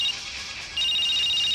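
A mobile phone ringtone plays loud and close, a repeating electronic tone that pauses briefly and then resumes.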